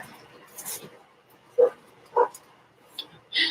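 A dog gives several short, sharp barks and yips at a moderate distance, spaced irregularly against a quiet outdoor background with no talking.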